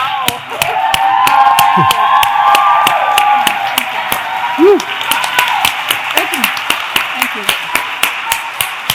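A crowd claps for Antoinette at an Earth Jam event at an Aveda beauty institute, a fairly loud, steady round of applause with voices and cheers mixed in, thinning toward the end into a few scattered claps.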